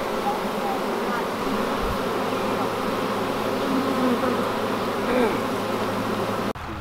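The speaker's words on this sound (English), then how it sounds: "we had three bunches of bees up there" A swarm of honey bees hums steadily in the neighbors' trees, a dense continuous buzz that stays loud and even throughout, with a brief thump near the end.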